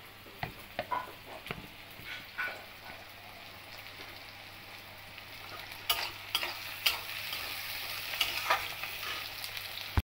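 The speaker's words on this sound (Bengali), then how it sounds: "250 পেঁয়াজ, ক্যাপসিকাম একটা কেটে ভেজে নিচ্ছি" Sliced onion and capsicum frying in a pan: a steady, moderate sizzle runs throughout, broken by sharp scraping clatters of stirring, with no voices.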